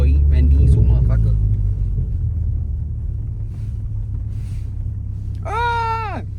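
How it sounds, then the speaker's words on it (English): A front-wheel-drive car drifts on snow at night, its engine rumbling low and loud with wind buffeting the microphone, and a rising-falling tonal whine near the end. "drifting in the snow. And I'm front wheel drive"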